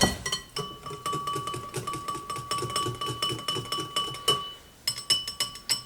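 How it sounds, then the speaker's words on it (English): A whisk beats vanilla extract into banana pancake batter in a bowl with steady, rhythmic clinking taps against the bowl, close up and alone. "I'm gonna put that in and mix that together with our whisk."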